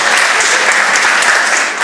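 Applause during an anniversary celebration at a GMII Filipi church in Jakarta, a dense, steady patter of many hands clapping close by, filling the whole short stretch without a break.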